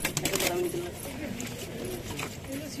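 English carrier pigeons, homers kept for sale, coo softly at close range in a loft, low throaty calls repeating under a voice talking nearby.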